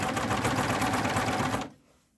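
A coverstitch machine runs steadily, stitching a stretch cotton jersey binding with a fast, even mechanical chatter, then stops abruptly near the end into near silence.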